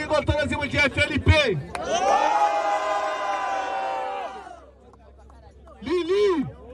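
Audience at a street rap battle cheering for one MC, a burst of whoops and shouting rising into a sustained roar that fades, with a host's voice speaking before and after.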